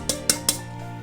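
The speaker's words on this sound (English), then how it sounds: "Now we just give this a quick stir, quick mix" Three quick metallic clinks of a utensil against a bowl while stirring a cocoa powder and brown sugar mixture, evenly spaced and close, with a faint ringing tail.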